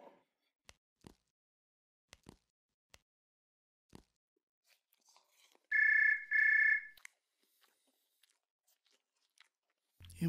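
A telephone rings indoors in two short bursts of electronic trilling near the middle, set against a quiet room with scattered small clicks and knocks before and after.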